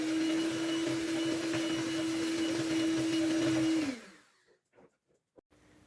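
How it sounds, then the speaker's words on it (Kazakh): Electric hand mixer whirring steadily as it beats melted margarine with sugar, a loud close motor drone that winds down and stops after about four seconds, followed by a few faint clinks; no talking. "200 грамм шекер салып, миксермен жақсылап миксерлеп аламыз"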